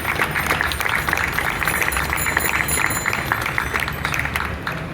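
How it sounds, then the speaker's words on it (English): A crowd at a Philadelphia Ride of Silence road-safety memorial gives a dense, continuous round of applause that holds steady throughout at moderate loudness. "Give each of those constituencies a round of applause."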